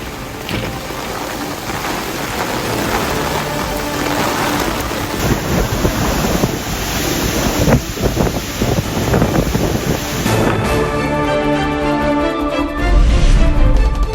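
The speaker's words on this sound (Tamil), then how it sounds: "லூசன் தீவில் மணிக்கு 185 கிலோமீட்டர் வேகத்தில் வீசிய காற்று" Typhoon wind and rain lash Luzon island in the Philippines, a loud, dense roar of downpour and gusting wind buffeting close by, unbroken and without voices.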